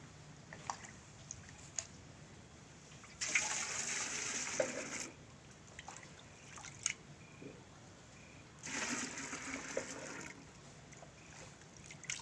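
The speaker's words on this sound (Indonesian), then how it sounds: "kita masukkan larutan yang sudah dibuat tadi ke dalam gembor" A prepared liquid solution is poured into a garden watering can in two separate bursts of soft splashing, each about two seconds long, quiet and separated by a pause.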